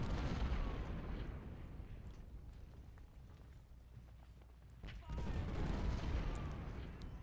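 Cannon batteries firing in the American Civil War strategy game Ultimate General: Civil War, a dense, rumbling barrage of booms and crackling fusillade that dips briefly, then swells loud again.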